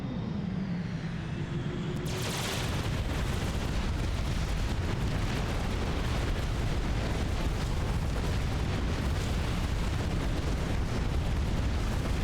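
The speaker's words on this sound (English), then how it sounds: "there are AA guns shooting me from outside the map" Anti-aircraft guns firing in the real-time strategy game Supreme Commander: a dense, continuous roar of bursts and booms that swells after a quiet start and stays loud and unbroken, with no talk.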